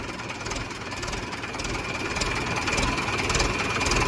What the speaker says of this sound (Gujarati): મિત્રો, ટ્રેક્ટર ચાલુ પણ છે